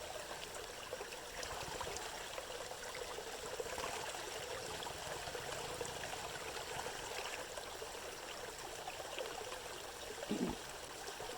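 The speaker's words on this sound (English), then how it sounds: "this water is just coming right out of the rocks and there's nothing above it" Spring water trickling steadily out of the rocks on the Appalachian Trail, a soft continuous burble close by and quiet, with one brief knock near the end.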